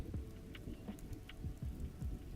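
A rain storm ambience recording with thunder plays quietly as a steady, continuous wash of rain broken by low, soft rumbles, with no one talking.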